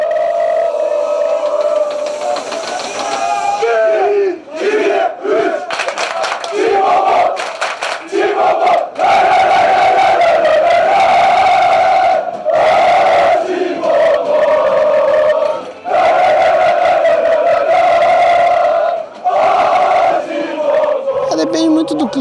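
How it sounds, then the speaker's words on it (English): Galatasaray football supporters chant loudly before the derby against Fenerbahce, a dense, continuous wall of massed voices with rhythmic surges and bursts, close and sustained throughout. "Passers-by are greeted by a wall of sound. Supporters in great spirits and great voice too"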